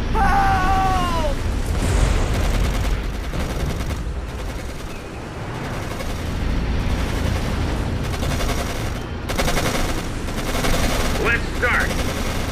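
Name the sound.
gunfire in the video game Codename Panzers: Phase One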